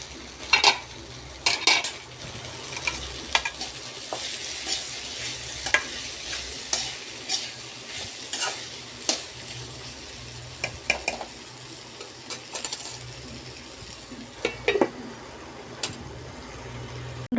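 Mixed vegetables for a curry cook in a pan with a continuous low sizzle, broken by frequent sharp clinks and scrapes of a utensil stirring them up close.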